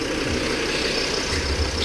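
A Mazda RX7 FD rotary engine with a custom exhaust runs with a steady, rough idle and low burbling pulses, loud and close, with no talk.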